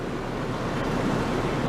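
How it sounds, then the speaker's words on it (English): Runoff in Beaver Creek rushing steadily, a loud, continuous broadband roar of flowing water close by, with no breaks. "Plenty of runoff going on."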